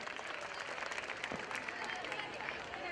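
An audience at a school gathering applauds steadily, a dense, even wash of many hands clapping heard from a distance for the full stretch, fairly faint.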